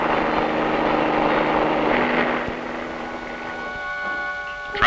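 A news helicopter flies overhead on a traffic report, its steady rotor and engine drone loud and continuous, easing slightly before a brief burst at the end; no one speaks.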